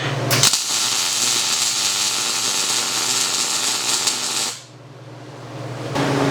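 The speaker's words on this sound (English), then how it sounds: "it's just going to be a couple tack welds because it doesn't need to be anything super sturdy." Tack welding steel for a CNC router frame: a steady, loud crackling hiss runs for about four seconds, cuts off sharply, then resumes briefly after a short pause, with a low electrical hum beneath.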